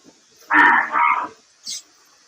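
Murrah and Jafarabadi buffalo calves at a dairy farm call out close by, two loud bellowing moos in quick succession followed by a shorter, higher call.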